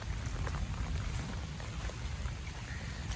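Heavy rain falls on a village, a dense, steady hiss and patter on surfaces that stays loud and close throughout, with no voices.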